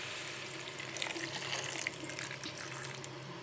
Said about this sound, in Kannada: ಇದಕ್ಕೆ ಈಗ ಒಂದು ಸ್ವಲ್ಪ ನೀರು ಹಾಕ್ಕೊಳ್ಳೋಣ್ರಿ.